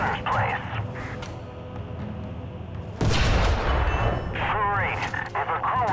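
A tank cannon fires and strikes an enemy tank in War Thunder on PS4, one loud broadband blast with a rumbling tail over a steady engine and battle din, with a voice talking before and after.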